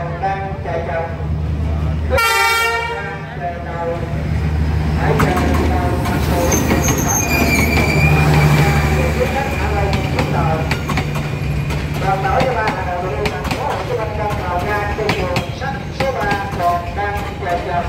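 A train pulls into Dieu Tri railway station in Vietnam with a loud sustained rumble and rattling of carriages, a brief horn toot, and someone talking over the noise.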